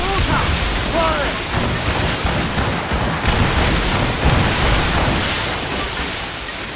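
Ship cannons fire in a naval battle in the video game Assassin's Creed Rogue, a dense rumbling barrage of booms and bursts layered over noisy sea and battle ambience, loud and sustained, with a few shouted voices mixed in.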